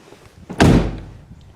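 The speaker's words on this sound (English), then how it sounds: "Listen to the door. That's solid." A 2010 Volkswagen Jetta Sportwagen door swung closed once, landing as a single deep, solid thud up close that fades quickly.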